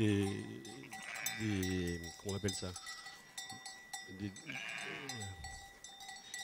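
Sheep used to graze a coastal training site bleat a few times, near and clear, with someone speaking in French over and between the calls.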